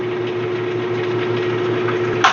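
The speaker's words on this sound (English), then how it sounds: "Here is a close-up demonstration of the dust blower in action." A scroll saw's dust blower runs steadily up close, a continuous mechanical hum with a low drone and airy hiss, cutting off with a brief clatter at the end.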